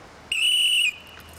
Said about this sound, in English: Does everybody know why we blow whistles at Pride, etc.?